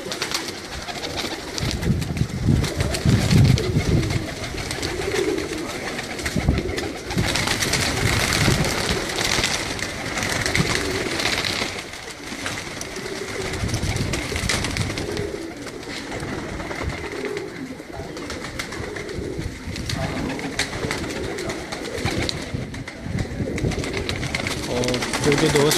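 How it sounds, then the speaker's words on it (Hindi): Flocks of pigeons kept on a rooftop in Kasur coo steadily in a dense, overlapping chorus close by, with someone talking over them throughout. "ये जी इनके प्रवासी कबूतर हैं।"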